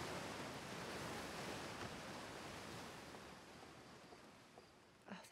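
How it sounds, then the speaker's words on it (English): Loud, steady roar of crashing water waves from the ocean planet in the video game Outer Wilds, a dense wash of surf filling the whole clip with a few sharper splashes near the end, no voices. "Oh, thank God, that water was so loud."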